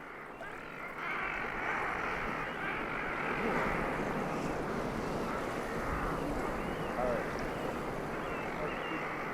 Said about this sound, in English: Even though we're being tossed about by the waves that break on the shore